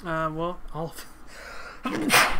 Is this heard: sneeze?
yes